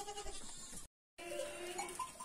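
Goat kids on a farm bleat in repeated short cries close by, with a brief silent gap midway and steady barnyard background.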